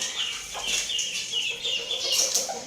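Chickens and bantams cluck and squawk close by in a steady, overlapping chatter, with occasional sharper calls rising above the flock.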